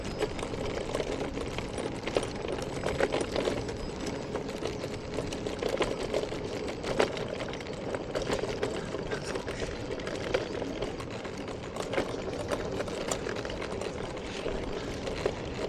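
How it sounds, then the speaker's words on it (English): A scooter running along a Southern California coastal road, a steady mid-pitched engine drone with rapid rattling and clicking layered over it throughout. "There's still some noises in this scooter"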